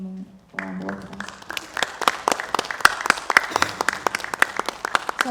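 Applause from an audience at a medical review event as students come up to the stage, a single loud burst of sharp, distinct claps that starts abruptly and continues steadily. A brief tone precedes it.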